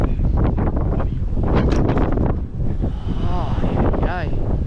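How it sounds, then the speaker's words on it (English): Strong wind buffets a microphone outdoors during a tornado, with heavy gusting rumble and bursts throughout, and voices speaking and exclaiming over it. "Whoa, the wind."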